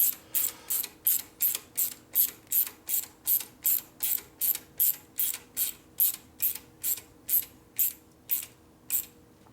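A ratchet tightens small bolts on the manifold clamps of a 1967 Harley-Davidson 74ci shovelhead FLH. About twenty crisp, evenly spaced clicking strokes sound close and clear with no talk.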